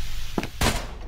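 Gunfire in the horror game SCP: Containment Breach v1.3.11, Entrance Zone: a few sharp, close reports in quick irregular succession over a noisy background.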